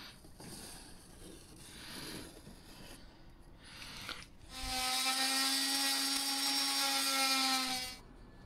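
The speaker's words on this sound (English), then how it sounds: "I'm going to cut the plaster back all the way around so that I can fix back up to the solid wood" A power tool cuts back plaster around a wall to reach solid wood battens, starting with scraping and knocking, then a loud steady whining run of a few seconds before it stops.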